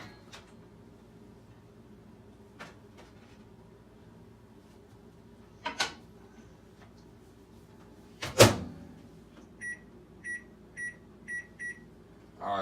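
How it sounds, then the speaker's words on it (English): A microwave oven cooking sweet potatoes gives off a faint steady hum, then a door clunks shut and a string of short electronic beeps sounds at even intervals. "I'll probably cook these in the microwave for like 15 minutes."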